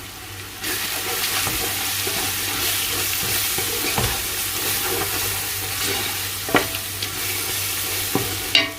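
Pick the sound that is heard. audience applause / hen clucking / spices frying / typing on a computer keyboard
spices frying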